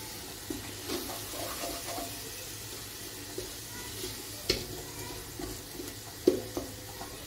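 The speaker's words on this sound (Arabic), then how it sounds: "كنبقى نحرك" Ginger is stirred in a pot of simmering liquid for shrimp soup, producing soft sloshing and bubbling with light spoon clinks against the pot, quiet and close, with a couple of sharper knocks.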